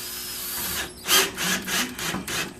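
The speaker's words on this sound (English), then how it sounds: "I drill a hole and put a screw in." A power drill bores a hole to take a screw, with a steady whir giving way to several loud, pulsing bursts as the bit bites, close and with no talk.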